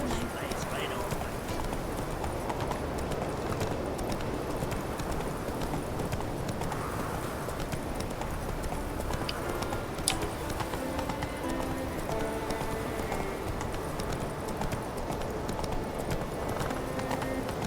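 Horse galloping in The Witcher 3, a rapid, continuous clip-clop of hooves running throughout, moderately loud under game voices and ambient background noise.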